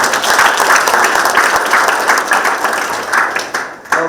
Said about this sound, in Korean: 모두 이렇게 격려의 박수를 한번 부탁을 드리겠습니다